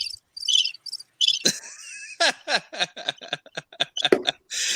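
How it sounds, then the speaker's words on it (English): Crickets chirp in steady repeated pulses, loud and close, with several rapid bursts in a row and a brief chuckling sound mixed in, played as a gag for silence. "A whole lot of crickets, man."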